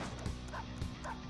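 A cartoonish dog from the video game Persona 5 Royal gives a couple of short bow-wow barks and yips, moderately loud over a steady game background with no talking.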